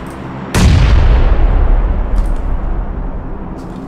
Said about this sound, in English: Throwing a nade that way.